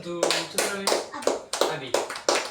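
A primary school class claps together in unison for a pupil after a finger-multiplication answer, sharp rhythmic group claps in a regular pattern of about six beats, with children's voices faintly between them.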